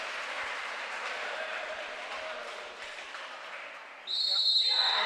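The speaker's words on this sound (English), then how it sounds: "Cheering." Crowd cheering and shouting at a varsity water polo game at a pool, a steady roar of many voices that surges louder near the end with a shrill whistle-like tone.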